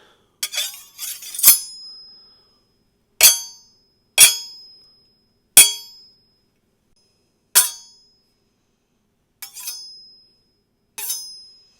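Kitchen knife blades clinking and clanging together in a series of sharp, ringing hits, a quick cluster first and then single strikes spaced a second or two apart.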